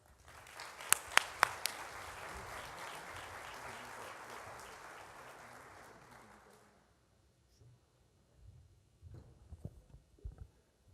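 Sustained audience applause greets Commissioner William Evans as he comes to the stage at a forum, a few sharp claps standing out at first, then a steady dense patter that fades away after about seven seconds.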